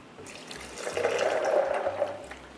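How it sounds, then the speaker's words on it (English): Water pours steadily into a container for a couple of seconds, close and fairly clear, with a low hum underneath. "And then I basically add exactly this much water."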